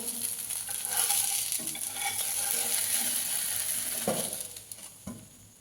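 A palm-flavoured patisapta pancake frying on low flame in a lightly oiled pan, giving a soft steady sizzle with a few spatula scrapes and taps near the end, close up with no voices.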